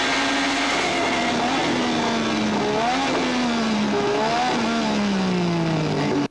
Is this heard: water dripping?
no